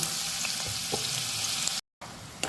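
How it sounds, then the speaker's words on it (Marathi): Finely chopped onions fry in a pan for egg masala, a steady close sizzle with faint stirring clicks, briefly cutting out before the hiss resumes. "आपला कांदा व्यवस्थित आपण परतून घेऊयाला छानपैकी तांबूस कलर येईपर्यंत याला आपण परतूया"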